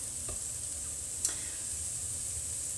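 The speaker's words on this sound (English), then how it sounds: "I'm just going to break it up into little pieces. Okay, I hope you can see. And I'm going to fry this up" Turkey sausage broken into small pieces fries in a pan, giving a steady close sizzle with a light stir or tap near the start and a sharper clink a little past one second.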